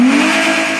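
A car engine revs up hard in a short, loud burst, its pitch climbing at the start before holding a strained, steady roar.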